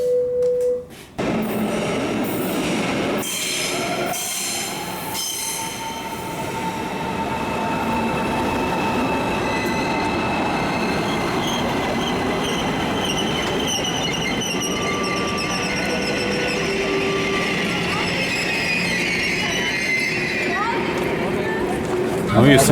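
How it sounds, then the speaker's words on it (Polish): Riding aboard a passenger train heading to Cologne: a steady, loud rumble of wheels on rails with rattling and some squealing, continuous from inside the carriage, with voices faintly mixed in. "No i jesteśmy w kolejnym pociągu."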